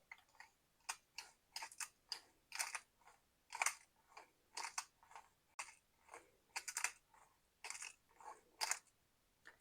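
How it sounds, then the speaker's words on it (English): A handheld pepper grinder cracks black peppercorns in a quick run of about a dozen crisp, gritty ratcheting clicks, close and fairly quiet, with short gaps between turns and no talking. "About 8 clicks on the old pepper grinder"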